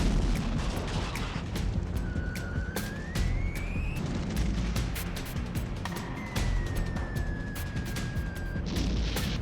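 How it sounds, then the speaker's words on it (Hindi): Dense bursts of explosions and gunfire crack and boom repeatedly in war footage of a drone attack in Russia, with rising and falling siren-like tones and chaotic background noise throughout. "तेज धमाके, आग के गुबार और चारों तरफ अफरा तफरी।"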